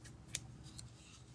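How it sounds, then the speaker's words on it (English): Scissors snip open looped strands of hair on a primitive scarecrow, a few quiet, crisp cuts close by in a short, faint moment. "I'm just going to cut those loops open."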